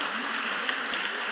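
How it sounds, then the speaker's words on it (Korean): A church congregation claps together in encouragement, a brief dense burst of applause filling the room at even loudness. "그래서 우리 다시 한번 격려 박수 하겠습니다."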